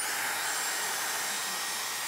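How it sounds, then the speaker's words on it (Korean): A hair dryer blows hot air in a steady, loud, unbroken whoosh, heard up close with no other sound. "그럼 어떻게 드라이기 가는 거야? 안 가는 거야?"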